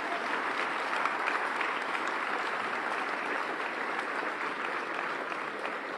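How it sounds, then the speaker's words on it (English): Dense, sustained applause from a large audience at a mayoral swearing-in ceremony in New Haven, honoring the inauguration committee; steady and loud throughout with no speech. "I ask you to join me in a round of applause for the inauguration committee"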